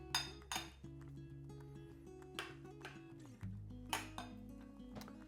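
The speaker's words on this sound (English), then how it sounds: "Let's get it on a plate." Sausage, egg and potato breakfast casserole being served onto a plate, with several clinks and scrapes of a utensil against dish and pan over a steady low background hum.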